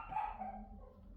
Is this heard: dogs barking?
yes